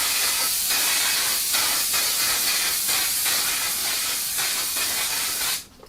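Waterproof makeup setting spray hisses from a pump bottle in a long run of close, loud bursts that pulse nearly without pause before cutting off.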